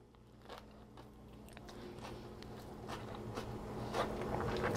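Bites into a crunchy wrap of tofu, rice noodles, vegetables and hoisin sauce, with a series of close, crisp crunches and chewing sounds growing slightly louder over a few seconds.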